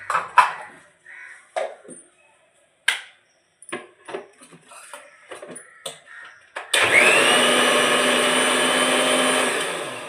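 A mixer grinder blends a mixture with gram flour (besan). A few light clatters and knocks come first, then the grinder roars in loud and close, running steadily to the end.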